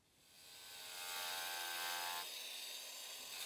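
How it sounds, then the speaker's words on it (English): A 4-inch angle grinder with a diamond-tipped blade cuts along a marked line during a bathtub installation, a high-pitched whine rising as the blade bites in, then a steady close, loud grinding. "that's my line I'm about to cut with a 4-inch grinder and a diamond tip blade"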